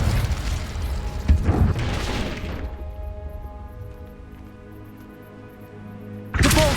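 Spell blasts from a Hogwarts video game: a few booming bursts and crackles near the start, a fading ringing tail, then another loud burst at the end.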